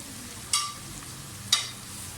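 Onions frying with ginger-garlic paste in a pan give a faint, steady background sizzle, broken by two short, sharp scraping stirs about one second apart.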